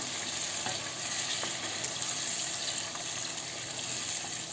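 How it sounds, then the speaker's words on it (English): Chopped tomato stirred into browning onions in a pan, a steady close sizzle with faint scraping from the spoon, no one talking. "add the chopped tomato. Now you mix."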